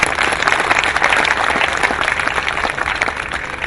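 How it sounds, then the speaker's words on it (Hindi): Audience applause for Monika at a village gathering in Hirmathla, Mewat, Haryana: dense, steady clapping from many hands throughout, loud and close, with faint voices mixed in. "मोनिका के लिए ताली जोर से बजाइए"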